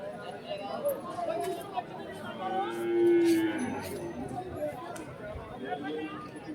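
Cattle and bulls lowing amid a large, busy cattle market in Dhone, Nandyal district, with one long, loud moo rising near the middle over steady crowd chatter and background bustle.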